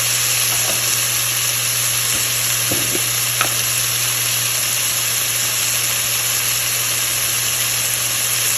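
Okra masala with tomatoes fries in a pan, giving a loud, unbroken hiss of sizzling oil that holds steady throughout. A few faint utensil clicks come early on, and no one speaks.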